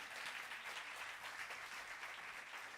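Congregation at a fellowship meal applauding the person who bought the food, a steady, even round of clapping from a crowd throughout.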